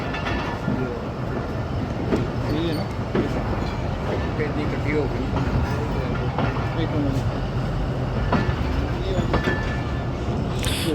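A train runs along the Sialkot to Wazirabad track at low speed, its steady rumble and rhythmic clickety-clack of wheels on rail heard from inside a carriage, continuous and fairly loud throughout.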